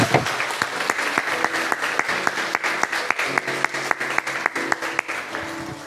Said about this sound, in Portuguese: Dá uma salva de palmas para o nosso Senhor